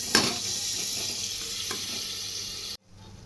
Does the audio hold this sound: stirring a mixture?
yes